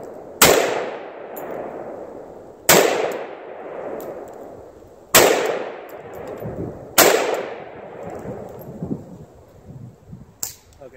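An AK-47 rifle fitted with a Definitive Arms Fighter Brake fires four loud, sharp single shots outdoors, a couple of seconds apart, each followed by a long ringing echo.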